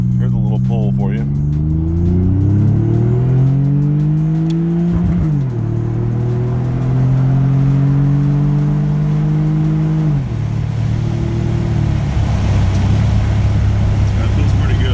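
A 1993 right-hand-drive JDM Nissan 300ZX twin turbo with a cold air intake revs hard through several climbing pulls, the engine note rising and dropping between gears as the turbos spool, loud and close from inside the car.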